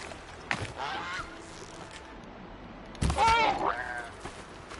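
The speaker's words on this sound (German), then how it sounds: "Aber die Gans." A goose honks in the video game Horizon Zero Dawn, giving two bursts of nasal, wavering calls, the first short and the second louder and longer, over a steady ambient game background.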